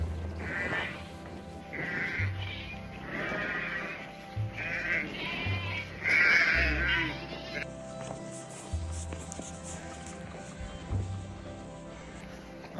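Sheep bleating on a farm, several bleats in a loose rhythm, close and fairly loud, with a voice talking and outdoor background noise.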